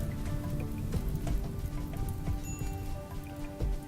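Steady rain from the video game Rimworld, a dense continuous patter of drops on surfaces that holds an even level throughout, with no voices over it.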